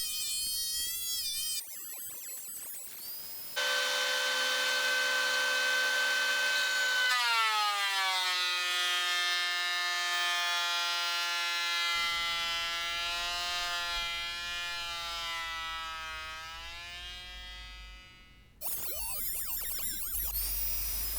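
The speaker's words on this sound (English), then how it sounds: "Here I'm planing down another piece of cypress." A thickness planer whines as it feeds an old cypress board, a loud sustained tonal roar that rises in pitch when the cut starts and fades as the board exits, with brief clatter at the start and end.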